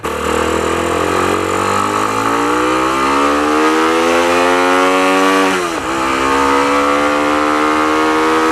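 A Motorstar Z200S motorcycle fitted with a racing carburetor accelerates hard and loud, its engine pitch climbing steadily through the gear. It dips briefly at a shift, then pulls on again with no talk.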